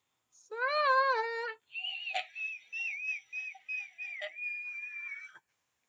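A high, thin whistle-register voice sings, first with a rapid wavering trill, then sustained squeaky notes sliding up and down, clear and close.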